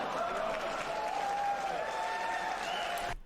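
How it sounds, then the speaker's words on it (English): An audience at the Nintendo E3 2003 press conference breaks into sustained applause and scattered cheers, a dense crowd clapping steadily for about three seconds before cutting off. "that line was met with applause there"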